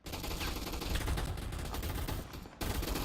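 Rapid gunfire crackles through a video game gunfight arena, a dense, loud burst of continuous shots with a brief dip near the end before firing resumes.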